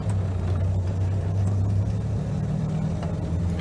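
An older Jaguar E-Type engine idles rough and steady with the choke on while warming up, a loud, continuous low rumble close by with no voices.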